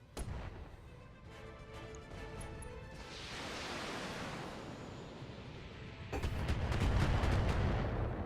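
Weapon fire in the mech combat game BattleTech, heavy booming blasts and rolling rumble building into a sustained roar, with a loud, dense surge of impacts toward the end.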